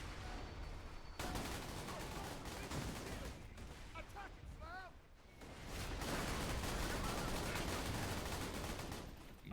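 Mortar explosions and gunfire in the video game Borderlands 2, heard as dense, loud, continuous rapid shooting and blasts packed together with hardly any gaps.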